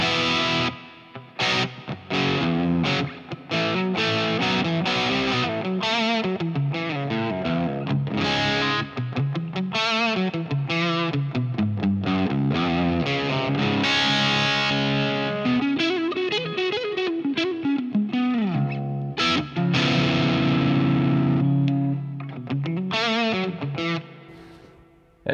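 Electric guitar through the gain channel of an Orange Super Crush 100 solid-state amp, set at noon with a chorus pedal on, plays a driven, distorted passage of chords and single notes with a shimmering chorus wash, loud and continuous with no talk.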